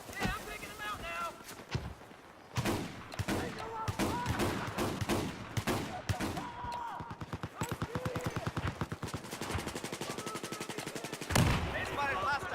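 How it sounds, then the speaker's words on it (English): Machine gun fire in a Battlefield 4 battle, with rapid bursts and sustained rattling volleys at close to mid range and scattered heavier shots, under intermittent radio-style voices. "They spotted hostile machine gunner."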